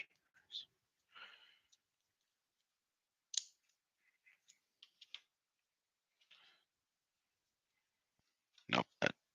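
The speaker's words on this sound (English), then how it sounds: "let me try my scissors" Quiet, sparse snips and clicks of scissors cutting plastic model kit parts for a 1/10 scale G1 Optimus Prime figure, heard close up in short isolated bursts with a couple of sharper cuts near the end.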